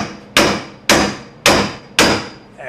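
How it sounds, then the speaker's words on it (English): Four sharp, evenly spaced hammer blows drive a Genright roll cage into place on a budget Jeep YJ. Each metallic strike rings loud and close, then decays. "I'm going to grab the hammer for him."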